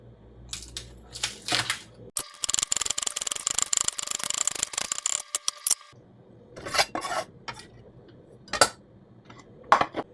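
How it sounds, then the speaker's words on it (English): A knife thinly slicing a green onion for a Spanish omelette: a series of close, crisp cuts in short bursts, with a rougher, steadier scraping stretch in the middle and no talking. "1 green onion, also cut it thin."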